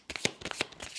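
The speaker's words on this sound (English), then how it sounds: "I was just shuffling." Tarot cards being shuffled by hand, a run of quick papery riffles and soft slaps in a short burst, close and fairly quiet with no voices.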